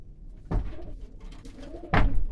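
Çorum breed pigeons in a coop give two soft, close coos about a second and a half apart over a low background murmur, with no speech.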